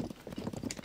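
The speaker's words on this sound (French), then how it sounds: "On va essayer d'y aller en cheval." Horse hooves clip-clopping in a video game, a quick steady run of muffled hoof beats over a short moment, close and moderately loud with no speech.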